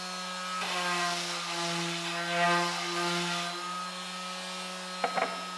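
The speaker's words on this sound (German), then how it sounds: "Das ist eine Schwingschleifmaschine mit 120er Körnung drauf" An orbital sander with 120 grit sands the edges of wooden parts for a camper van build, a steady loud hum that holds through most of the clip, then a couple of short knocks near the end.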